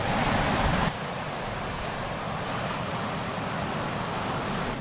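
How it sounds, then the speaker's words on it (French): Surf breaks steadily on a renowned Australian beach along the Great Ocean Road, a dense, continuous wash of crashing waves heard close and fairly loud, with a louder surge at the start and no voices. "C'est vraiment les vagues."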